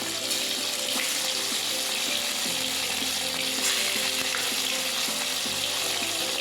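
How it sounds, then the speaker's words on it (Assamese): Beaten eggs fry in hot oil in a kerahi wok with a loud, continuous close sizzle, punctuated now and then by soft clinks from stirring; nobody speaks. "আৰু কেৰাহীত মই তেল গৰম কৰি ডিমখিনি ফ্ৰাই কৰি ল'ম।"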